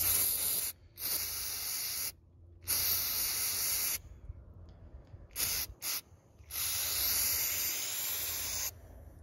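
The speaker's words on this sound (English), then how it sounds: "Take mass airflow sensor cleaner or electrical cleaner, and all you gotta do is spray that little needle." An aerosol can of mass airflow sensor or electrical cleaner hisses in several sharp spurts of varying length, loud and close, with short silent gaps between them.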